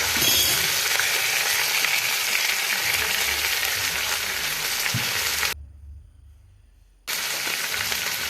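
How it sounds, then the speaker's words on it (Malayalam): Chopped vegetables hit a hot frying pan for Kerala-style beef fry, giving a loud, steady sizzle with stirring scrapes that drops sharply for a moment before the frying noise returns. "ഇനി അതിലേക്ക് അരിഞ്ഞു വെച്ച പച്ചക്കറികൾ ചേർത്ത് കൊടുക്കാം."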